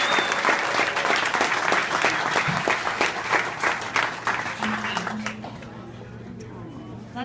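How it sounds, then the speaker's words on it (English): Audience at a New York City tribute event for Adam Yauch claps loudly in a dense burst that fades toward the end, with a voice speaking over the tail. "Let's give another round of applause to Say Adams,"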